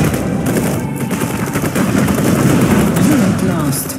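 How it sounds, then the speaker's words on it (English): Rapid automatic infantry gunfire from the Tempest Rising real-time strategy game, a loud continuous rattle of bursts filling all four seconds, with faint unit voice lines beneath. "Open fire!"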